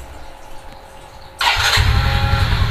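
A motorcycle engine is started remotely through an Android phone and Arduino: a quiet hum, then a sudden starter crank that catches into a loud, steady idle, close by.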